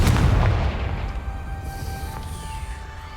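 The Confringo fire spell in Hogwarts Legacy bursts as a loud, deep boom at the start, then rumbles and fades over a few seconds under a faint lingering tone.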